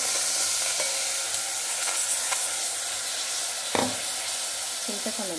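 Tamarind frying in a pan for ginger pickle gives a steady, close sizzling hiss throughout, broken by a sharp clank from a utensil near the end and a few faint tonal clinks at the very close.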